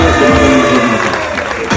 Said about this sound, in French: Je vous demande de bien applaudir dans la salle.